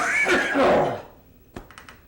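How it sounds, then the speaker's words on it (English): A man clears his throat once up close, a rough, gravelly rasp lasting about a second, followed by a few faint clicks in otherwise quiet surroundings. "Clear the old throat."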